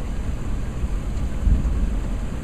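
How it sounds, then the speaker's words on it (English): Steady heavy rain during a severe thunderstorm with hail in Bedford, Texas, a constant dense wash with low rumbling thunder swelling briefly near the middle. "It looked like the rain is now beginning to die down."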